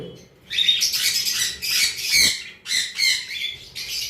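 A pair of yellow-sided conures gives shrill, harsh chattering calls in quick bursts close by, the squawks overlapping and pausing irregularly.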